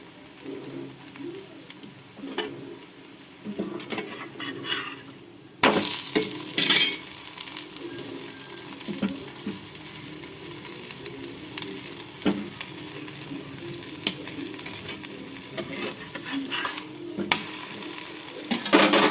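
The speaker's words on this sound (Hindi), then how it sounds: "थोड़ी सी हम घी लगा देंगे और इसे हम उलटते पलटते" Sabudana paratha frying in ghee on a griddle, with a steady sizzle and occasional scraping and clinks as it is flipped and turned; the sizzle swells sharply partway through when ghee is added.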